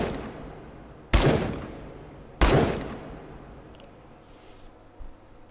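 Two loud, sharp gunshots ring out about a second apart, followed much later by a faint third, in the VR shooting game Hot Dogs, Horseshoes & Hand Grenades; no one speaks.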